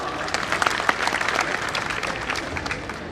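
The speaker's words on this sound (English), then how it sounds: "Give him a big round of applause." An audience at a speech and award event on minority education and interfaith dialogue breaks into steady applause, a dense, continuous wash of clapping from a large crowd.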